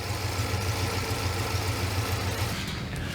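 A 1970 Pontiac Grand Prix SJ V8, warmed up after cam break-in, idles steadily with a deep, even low-pitched rumble and a constant pulsing throb, loud and close with no talking.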